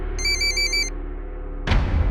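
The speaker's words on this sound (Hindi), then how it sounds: "फोन उठाओ।" A telephone rings in a bright electronic trill for about a second in an office setting, followed by a brief louder thump or handling noise, with no talking.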